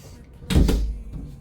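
A drawer in an RV bedroom slides open with a short, close wooden rumble and knock, alone with no talk.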